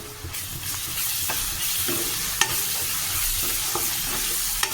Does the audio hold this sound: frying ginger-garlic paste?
yes